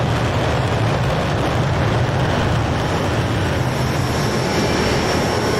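The Hawk T1 jet engine in the Just Flight flight simulator game roars in a loud, steady, broadband whine with a faint high tone on top, unbroken throughout with no talking.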